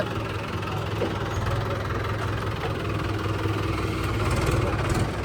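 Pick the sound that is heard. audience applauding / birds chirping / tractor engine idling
tractor engine idling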